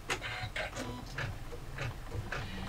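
An embroidery machine stitches colorway 4 on an in-the-hoop double zip phone pouch, tacking down a layered fabric piece with a steady, fast, rhythmic mechanical chatter of repeated stitch bursts at close range.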